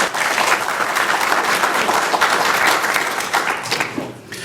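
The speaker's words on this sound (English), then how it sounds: "sure, you can applaud" Audience at an academic symposium honoring a school's founding dean bursts into loud, sustained applause, a dense wash of many clapping hands that fades slightly near the end.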